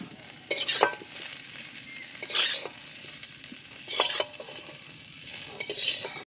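Fried cauliflower, cooked for a poppy-seed curry with paneer, is stirred and lifted out of a pan, giving a few separate scraping, sizzling bursts over a quiet background.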